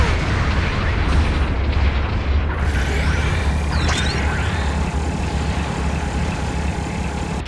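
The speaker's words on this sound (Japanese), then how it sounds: "後方部隊からの支援砲撃が来ます" Support artillery bombardment pounds the battlefield in Gundam Battle Operation 2, a dense, loud, continuous rumble of blasts and booms with a brief whistling streak partway through.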